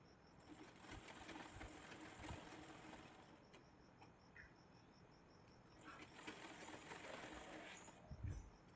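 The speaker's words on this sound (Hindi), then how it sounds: "अब हम चारों तरफ से बैठने वाली सिलाई लगा लेंगे बेल्ट में" A sewing machine stitches around a fabric blouse belt, a faint steady mechanical whir with a rapid ticking rhythm that runs continuously in a quiet room.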